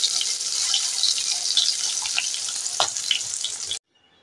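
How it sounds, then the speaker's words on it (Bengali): Two cut pointed gourds frying in hot oil, a loud, close and continuous crackling sizzle with occasional pops, cutting off abruptly near the end. "তা কোঁড়ার তেলে আমি দিয়ে দিলাম 2টো পটল। 2টো পটলকে আমি কেটে নিয়েছি, কেটে নিয়ে ভাজা করে নেব।"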